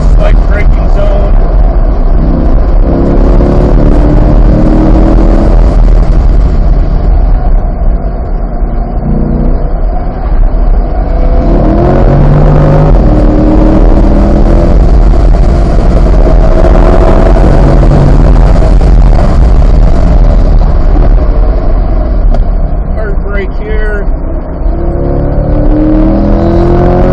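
A Chevrolet Corvette C8 on the Autobahn racetrack, its engine droning loud and steady in fourth gear with rising and falling revs through the corners, while someone talks over it throughout.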